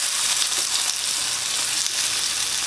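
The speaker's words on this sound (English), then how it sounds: "And all we're going to do is saute it up a little bit and give it a little bit of seasoning." A vegetable blend of yellow and orange carrots, green beans and red pepper sautéing in a pan, giving a loud, even, continuous sizzle up close with no talking.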